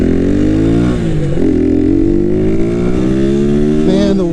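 A tuned motorcycle engine accelerates in third gear during tune testing, rising harmonics under steady loud revving with a brief dip near one second before pulling again, close and dominant throughout.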